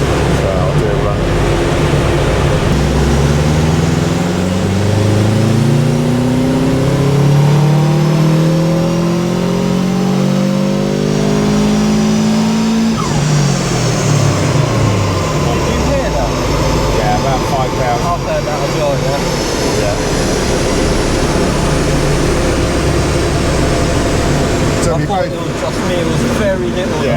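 A Subaru Impreza WRX engine revs hard on a dyno during a tuning run, its note climbing steadily through the gears, dropping back and rising again, loud and continuous from start to finish.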